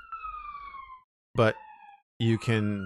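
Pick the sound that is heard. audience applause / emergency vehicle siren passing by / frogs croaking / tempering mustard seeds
emergency vehicle siren passing by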